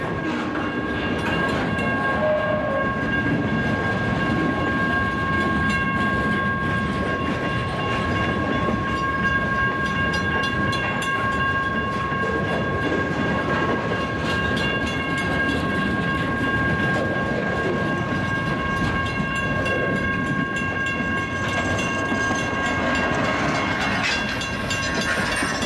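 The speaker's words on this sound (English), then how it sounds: "the train is pulled ahead over the crossing" A heavy CSX freight train rolls steadily over a crossing at close range, a continuous rumbling roar with a sustained high whine riding above it throughout.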